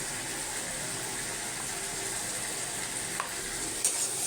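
Onion, tomato, chili powder and turmeric masala is stir-fried for a tilapia curry, producing a steady close sizzle with a couple of faint stirring clicks near the end and no speech.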